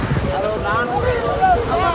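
Calm sea at a beach with a boat running nearby: a steady rumbling wash of water and engine-like drone, with wind buffeting the microphone throughout at a constant moderate level.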